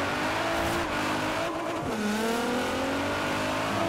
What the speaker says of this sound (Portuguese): O barulho desse carro é muito bonito